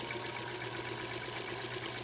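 A home sewing machine works slowly along the thick edge of a fabric face mask, giving a steady, close mechanical whir without pauses.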